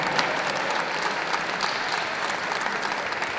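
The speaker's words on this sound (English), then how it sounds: "A big round of applause for our best puppy and show 2016, the Labrador Retriever" Audience applause at the Birmingham National dog show for the best puppy award, a dense, steady clapping from a large indoor crowd that carries on throughout with no talking.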